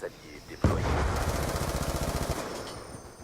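Rapid automatic gunfire in Call of Duty Black Ops 2 on the orbital station map, a loud burst opening a sustained rattling volley for a couple of seconds.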